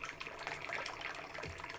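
Water pours steadily into a teapot during a tea steep, a soft continuous trickle heard close and quiet, alone.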